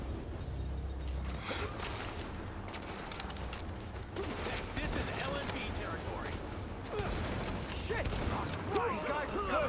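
Dense gunfire crackles in rapid bursts throughout a firefight at Grand Central Station in the video game Tom Clancy's The Division, with mechanical clicks and clatter mixed in and voices speaking over the shooting.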